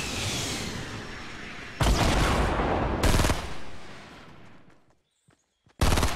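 Gunfire in a Fortnite match: bursts of loud, sharp shots, several heavy volleys separated by brief gaps, with a quiet moment before a final burst.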